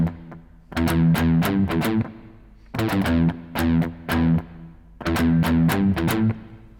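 An electric guitar with heavy distortion plays a riff up to speed, repeated three times in tight chugging bursts with short gaps between phrases, loud and close with no voice.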